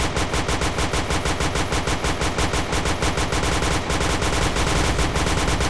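Rapid, sustained automatic gunfire from the video game Point Blank, loud and dense with steady repeating shots for the whole stretch and barely a gap between bursts.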